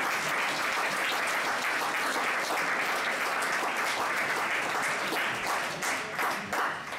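Sustained applause from a lecture audience, a dense even wash of many hands clapping that stays loud for the whole stretch and thins slightly near the end.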